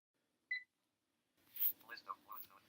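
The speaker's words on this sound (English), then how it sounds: "And your BrailleNote will beep for a second." BrailleNote Apex notetaker giving a single short electronic beep while searching for Bluetooth devices, followed by synthetic speech output.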